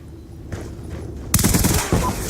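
A Scorpion EVO submachine gun fires in a video game, giving a short rapid burst of loud, closely spaced shots that starts partway through, briefly pauses, and continues over faint background noise.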